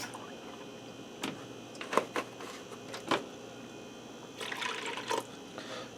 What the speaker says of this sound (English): so we'll put 1 cup of milk in because we're doing 2 packs